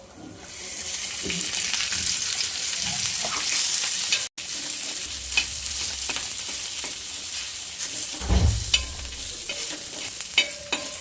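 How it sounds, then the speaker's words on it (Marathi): Loud, steady sizzle of onion frying in oil for a Marathi matki rassa dish, with intermittent stirring scrapes and a brief cutoff partway through, close and continuous. "आपण एकदा तेलात मस्त तळून घेणार आहे त्याला"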